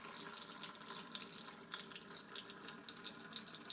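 Water streams steadily from a reverse-osmosis filter faucet, a continuous hissing gush at moderate volume with no voices over it.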